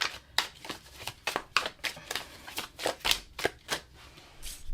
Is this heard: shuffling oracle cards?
yes